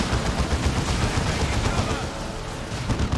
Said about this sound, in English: the plasma gunfire does take out the Sentinel